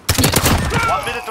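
Light machine gun fire in a video game: a rapid burst of loud, close automatic shots with a tail of echo, voices talking over it.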